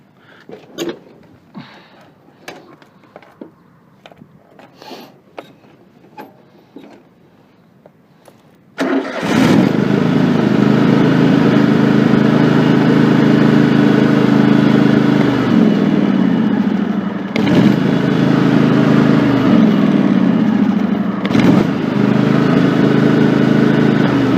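A Craftsman 3000 series riding mower sits quiet with light clicks and handling noises, then its engine cranks and catches with a sudden roar, settling into a loud, steady run with a couple of brief dips in pitch.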